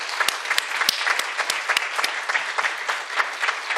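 A church congregation claps together in a short burst of applause, many hands with distinct sharp claps standing out from the dense patter, close and lively, with no talking.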